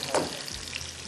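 Chicken and onions fry together in a pan for reshmi chicken, a brief close sizzle with one sharp stir or clatter near the start.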